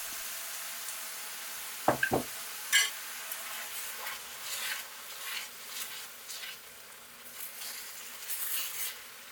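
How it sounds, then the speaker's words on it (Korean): Rice for a prawn risotto simmers in added bisque stock, a soft steady bubbling and sizzle with occasional stirring scrapes and a few brief clinks of a pan near the start, quiet and close. "쌀의 상태가 알덴테 직전까지 되면 끓여둔 비스큐 스톡을 넣고 마저 익혀줍니다"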